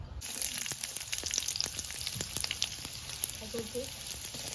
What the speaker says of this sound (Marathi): इथे मी एक चमचा तेल घालते आणि त्याच्यामध्ये कांदा आणि खोबरा भाजून घेते